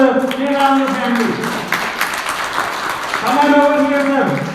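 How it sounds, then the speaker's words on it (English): An audience claps in a short burst of applause at a Ganesha laddu auction during the Ganesha Nimmajjanam festival. The clapping sits between stretches of amplified talking. "Give a big clap to the Sri Ramu family."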